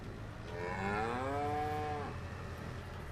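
A single long, low moo from a cow in the farming game Farming Simulator 25, rising and sustained for about a second and a half over steady background ambience, with no talking.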